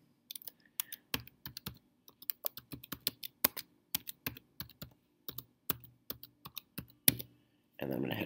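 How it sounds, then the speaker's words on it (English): Quiet, close computer keyboard typing in irregular bursts of crisp clicks while a new password is entered, then a short rustle at the end. "I'm actually going to type in a new password"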